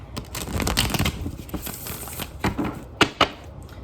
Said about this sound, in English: Let's shuffle a little more here.